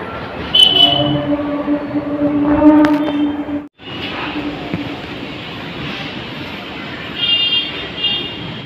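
A train rumbles past nearby at Konnagar station with a steady roar and a drawn-out horn-like tone, briefly cutting out before the rolling noise continues.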